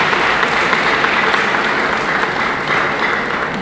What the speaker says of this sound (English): Give the young people a rousing round of applause,